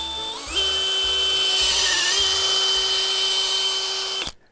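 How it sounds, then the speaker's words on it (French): A power drill bores a tap hole into a maple tree during sugaring season, running as a loud, continuous whine for about four seconds before winding down and stopping. "que tu inclines ta perceuse"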